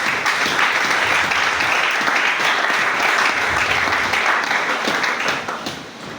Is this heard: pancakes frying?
no